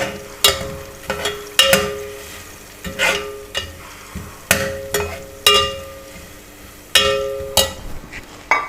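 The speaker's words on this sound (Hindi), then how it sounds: "ये मसाला जो है वो अच्छी तरह भून जाए।" Masala spices for bhindi frying in cooking oil, with repeated clinks and scrapes of a spoon stirring the pan over a low sizzle, in irregular bursts about once a second.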